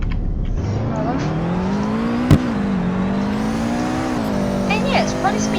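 A Volkswagen Golf R with a six-speed gearbox, put in manual mode, pulls away with its engine note rising smoothly in pitch, heard from inside the cabin. A gear shift drops it briefly before it climbs again, and a voice talks over it.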